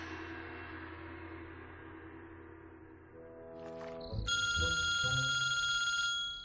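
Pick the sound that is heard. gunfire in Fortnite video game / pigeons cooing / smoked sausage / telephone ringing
telephone ringing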